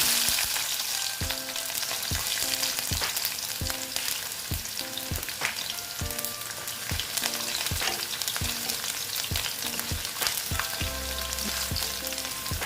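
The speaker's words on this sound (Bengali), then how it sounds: "তেলটা গরম হয়ে গেছে এবার আমি রসুনগুলো দিয়ে দিচ্ছি" Garlic frying in hot oil for a shutki vorta, a Bangladeshi dried-fish mash: a steady, loud sizzle throughout, broken by regular clicks and scrapes of a spoon stirring the pan.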